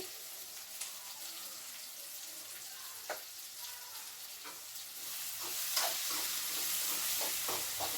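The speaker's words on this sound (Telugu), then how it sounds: "చూడండి చక్కగా గోలుతున్నాయి టమాటాలు" Tomatoes sizzle in a pan for upma, a faint steady frying hiss that grows louder and brighter toward the end, broken by occasional light taps and clicks of a utensil, heard alone at low volume.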